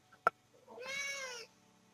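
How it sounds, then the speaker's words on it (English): A hungry cat waiting to be fed lets out one drawn-out meow, close and fairly clear, after a brief sharp click in an otherwise quiet room. "I have an extremely angry puddy cat threatening to slash my throat open if I don't feed her"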